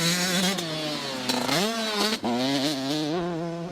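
Up close, a dirt-bike motorcycle engine revs and climbs in pitch during rider training, with a couple of quick throttle blips before it rises again into a loud, buzzing acceleration.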